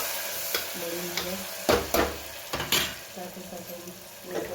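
Cabbage being stirred into a hot tempering of red chili and seeds for Kutchi kadak, with sizzling frying and a spoon scraping and clinking the pan in uneven bursts, close and fairly loud.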